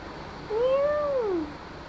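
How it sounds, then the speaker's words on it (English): A single cat meow inside a city-building game, rising then falling in pitch, about a second long, clear and fairly close over a low background hum. "Why are you meowing?"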